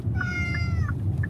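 An injured cat with a broken leg cries in a few short, strained meows over a steady low rumble of background noise.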